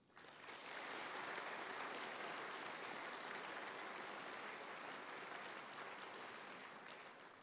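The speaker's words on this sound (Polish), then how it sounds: "proszę dla wszystkich gości serdeczne oklaski" Sustained applause from a large audience for guests at the inauguration of a university congress, a dense, even clapping that holds steady for about seven seconds and eases slightly at the end, with no talk over it.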